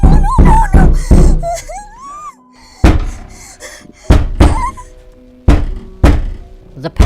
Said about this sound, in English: The pounding of the coffin lid turned into tearing soon.